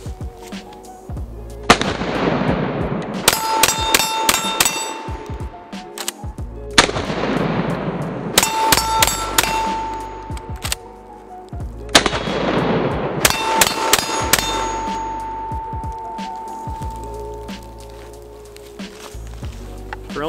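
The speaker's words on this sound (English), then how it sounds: "You guys know this wouldn't be complete without some sort of a mag dump, so we got some targets mixed in here." IWI TS12 bullpup shotgun fired in three quick strings of rapid shots, each followed by ringing hits on steel targets; loud, close blasts with metallic pings trailing off between strings.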